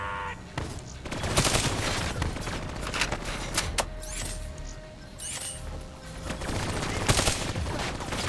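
Turret fire in Call of Duty Black Ops 3 comes as rapid, loud bursts of automatic gunfire with booming impacts and metallic effects, continuous and close across the whole stretch.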